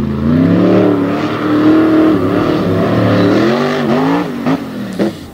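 The midget race car, a Patrick chassis with a Richard Midget engine, snarls loudly as it revs at an All Star Championship race, its pitch rising and dipping. A few sharp bumps are heard near the end.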